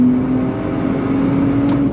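A 2025 Nissan Z Sport, a 400-horsepower sports car, accelerating on throttle around a track, its engine drone holding a steady loud pitch with no talking over it.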